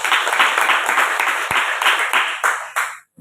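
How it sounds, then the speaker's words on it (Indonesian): Church congregation clapping for God during a sermon, a dense burst of applause that fades into a few scattered final claps and stops abruptly after about three seconds. "Berikan tepuk tangan bagi Tuhan."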